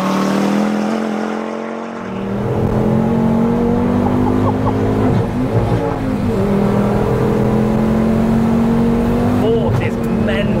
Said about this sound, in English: It sounds different to like other STs. Maybe it's because of the custom exhaust that I've got.